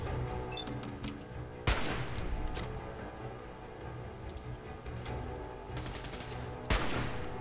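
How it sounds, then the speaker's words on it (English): Gunfire in the Fallout 4 game: two sharp, loud shots about five seconds apart, with faint rapid ticking between them over a steady background. "Who's shooting me? Are you shooting me?"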